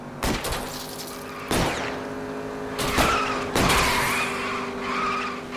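Gunfire in an L.A. Noire car chase: several sharp shots, about four, fired at a fleeing car's tires, cracking out at irregular intervals over a steady engine roar and tire skidding. No one speaks.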